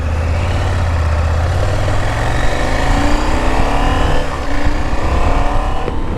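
KTM 790 Adventure motorcycle engine throttling up on a 2019 bike, a loud close low drone climbing steadily in pitch with road and wind noise building over several seconds.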